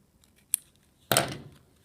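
Scissors snip off excess paper on a handmade Chinese dragon mouth craft: a faint tick, then one close, crisp cut, with no talk.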